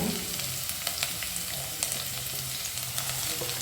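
Beans and carrots frying in a pan, a dense steady sizzle with occasional light stirring clicks, close and fairly loud, with no talking.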